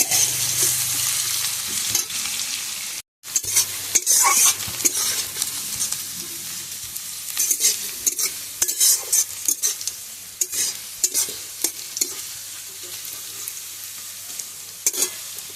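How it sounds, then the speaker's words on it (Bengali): Chopped onions frying in a pan, a steady close sizzle with repeated stirring scrapes and taps of a spoon, briefly cut off once near the start, then continuing with no talk. "এবার পেঁয়াজ কুচি দিয়ে দিলাম বেশ কিছুটা। তো এগুলো আমি লাল লাল করে ভেজে নিই।"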